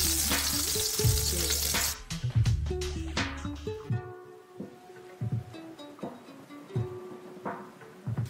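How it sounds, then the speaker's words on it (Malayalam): Mustard seeds and chillies fry in hot oil over a medium flame, a close, steady sizzle scattered with sharp crackling pops that thin out into sparser bursts. "കടുക് പൊട്ടിക്കഴിഞ്ഞിട്ടുണ്ട്"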